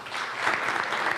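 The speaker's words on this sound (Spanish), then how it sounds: "démosle la bienvenida a Juan Fernando Uribe con un fuerte aplauso" Brief burst of audience applause welcoming a speaker at a construction engineering talk, dense steady clapping from a crowd in a hall, no voices over it.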